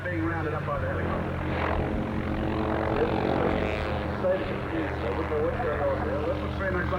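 A helicopter's rotor and engine drone steadily in the distance at an airshow in Wanaka, New Zealand, while a commentator talks over it.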